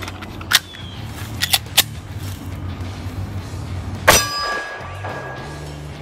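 Sharp shots from a Smith & Wesson M&P 10mm pistol, a few spaced cracks early on and one louder report near the end, each followed by a short ringing tail over steady background hum.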